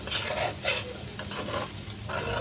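Fried rice seasoned with fish sauce and ground pepper being stirred and tossed in a pan, a steady close scraping and rustling with rhythmic swishes and light sizzle, no voices.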